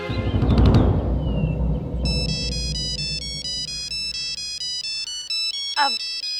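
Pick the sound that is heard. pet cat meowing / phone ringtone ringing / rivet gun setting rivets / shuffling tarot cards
phone ringtone ringing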